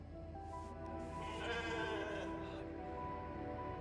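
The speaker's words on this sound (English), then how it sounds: "Never thought I'd be so glad to see a sheep." Sheep bleating in the space survival game The Alters, a sustained wavering cry lasting a few seconds over steady game ambience.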